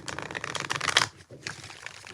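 Tarot cards being shuffled by hand in a few quick riffling bursts, close and fairly loud, with a short pause before the shuffling resumes.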